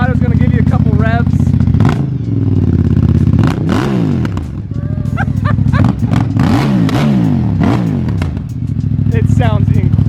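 A 2021 Yamaha R1M motorcycle with a Termignoni titanium exhaust, warmed up and stationary, revs repeatedly in loud sharp bursts that rise and fall, with people talking in between.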